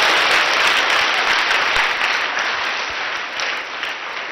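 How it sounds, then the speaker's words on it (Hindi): Loud, dense applause from an audience at a school award ceremony, sustained and fairly close, easing slightly toward the end. "पीयूष के लिए जोरदार ताली हो जाए।"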